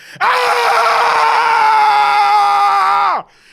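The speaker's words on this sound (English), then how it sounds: "That scream was because we have just officially gotten our first competitive win" A man lets out a loud celebratory scream after a Chelsea football win, one sustained high-pitched yell held for about three seconds before it cuts off sharply.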